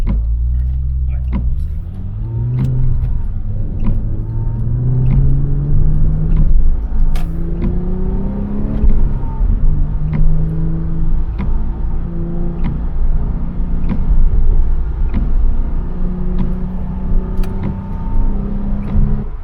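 Engine of a 2008 Porsche Cayman 987 with a 2.7-litre six, heard from inside while driving: a steady loud rumble with rising and falling rev sweeps as it shifts through the gears, with faint clicks on top.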